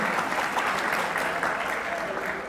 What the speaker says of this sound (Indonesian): Kok tepuk tangan kenapa?